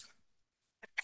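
A single sharp sneeze bursts out near the end of a quiet pause in a lecture on the geometry of data, preceded by a faint voice.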